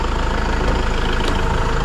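A Kubota Grand L6060 tractor engine idles close by, a loud, steady, low diesel rumble with no break.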